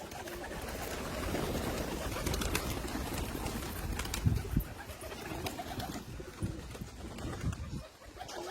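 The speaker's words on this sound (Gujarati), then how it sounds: "અત્યારે છે ને બધા કબૂતર છે નીચે" Pigeons coo softly and repeatedly in a dense flock, their low burbling calls blending with faint background rustle and occasional flutters.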